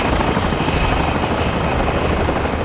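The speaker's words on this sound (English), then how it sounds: "we still hear the noise of the helicopter engine and propellers dominating the mix" Helicopter engine and rotor blades roaring loudly and steadily in a Final Fantasy VII Rebirth cutscene, a dense continuous drone with no voices.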